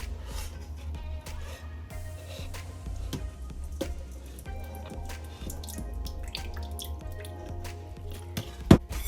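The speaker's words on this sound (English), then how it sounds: "So we're trying to get all the water out of here as we can." Cooked sweet potato for a pie being squeezed to press out its water, giving wet squishing sounds and scattered drips, with one sharp louder splat near the end.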